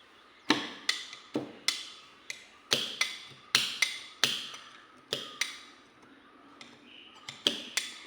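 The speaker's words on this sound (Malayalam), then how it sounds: "ഞാൻ ഈ ഒരു വലിയ സിസറാണ് ഉപയോഗിക്കുന്നത്." Large scissors snapping shut through paper for a handmade diary, a run of about twenty sharp, close snips at an uneven, unhurried pace, each quickly decaying, with no voices.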